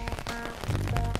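Cartoon-style rain falls in a dense, steady patter of drops, loud and close, with no voices over it.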